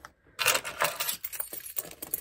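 Metal keys jangle and clink as they drop into a small Balenciaga Hourglass XS handbag, a close, bright rattle in several quick bursts with no talking.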